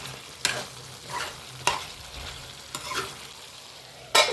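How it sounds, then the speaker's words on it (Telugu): Ginger, garlic and coconut paste frying in a pan, a low steady sizzle punctuated by four or five distinct scraping stir strokes at irregular intervals, close and clear with no talking. "అల్లం వెల్లుల్లి అండ్ కొబ్బరి పేస్ట్ వేసి బాగా మిక్స్ చేసుకోవాలి."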